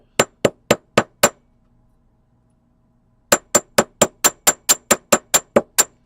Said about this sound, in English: I'm going to start with the flat side and just gently hammer it down